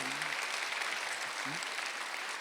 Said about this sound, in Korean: 깨달은 사람은 박수 한번 쳐봐